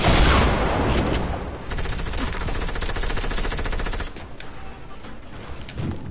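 Automatic gunfire in a video game rattles in long loud bursts, nearly continuous and dense, easing slightly toward the end, with no talking over it.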